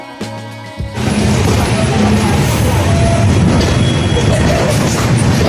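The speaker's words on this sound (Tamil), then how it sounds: "நம்ம வண்டி ராமநாதபுரம் ரயில்வே ஸ்டேஷன் வந்துருச்சு" An LHB-coach express train arrives at Ramanathapuram railway station, rumbling loudly and steadily after a brief quieter moment, its heavy rolling noise filling the scene up close.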